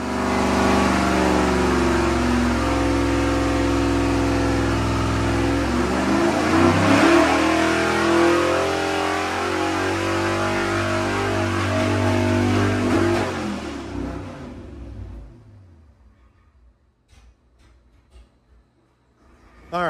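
An engine that came straight out of a car, producing 558 power and 622 foot-pounds of torque, roars loudly through a long dyno pull with rising pitch, then cuts off and winds down to near quiet.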